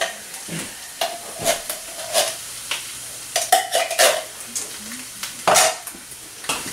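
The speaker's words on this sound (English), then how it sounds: "I'm going to add my pumpkin puree here" Canned pumpkin puree going into soup in a pot while it is stirred, with sizzling, scraping spoon and metal clinks against the pan in an irregular rhythm, close and moderately loud, no talking.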